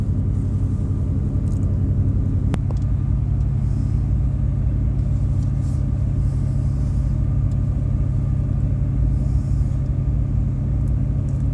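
A ferry's engine rumbles low and constant as the boat crosses open water between Gräsö island and Öregrund on the mainland, a steady drone with no talking over it.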